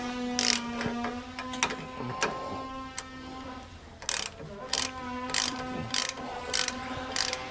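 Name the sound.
ratchet tightening Roadmaster anti-sway bar bolts on Winnebago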